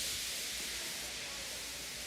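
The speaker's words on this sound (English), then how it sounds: "He just let off steam feebly." Steam engine from the Thomas & Friends series feebly letting off steam: a steady, soft, breathy hiss that continues evenly throughout, with no voices.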